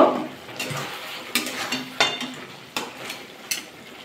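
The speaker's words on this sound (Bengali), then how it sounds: "আবার একটু নাড়াচাড়া করে নেব" Pui shak (Malabar spinach) stirred in a pan, with a few sharp scraping clinks of a spatula against the pan spaced about a second apart over a soft background hiss.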